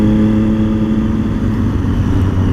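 A Triumph Street Triple motorcycle engine hums loud and close with a steady mid-pitched drone during a back lane ride, holding a fairly even tone with no voices.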